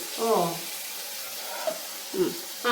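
Food fries in a pan with a steady broad sizzle throughout, while a spoon stirs it in occasional scraping strokes near the start, middle and end; no speech over it.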